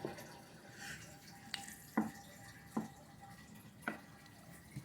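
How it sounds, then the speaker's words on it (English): Fish tank filter running water, a low steady trickle and hum in the background, broken by a few distinct drips and splashes spaced irregularly, fairly quiet and with no talking. "It is a fish tank, and it's kind of loud with the filter."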